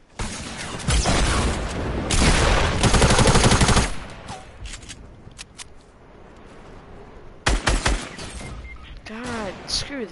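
Hunting rifle shots and other gunfire ring out in a Fortnite match, loud sharp cracks with a burst of rapid fire early on, then quieter stretches before more sharp shots, with players talking over it.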